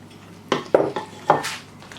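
A spoon scrapes and clinks against a dish while chicken marinade is mixed with tomatoes, four sharp knocks in a short irregular rhythm, close and clear with no talking.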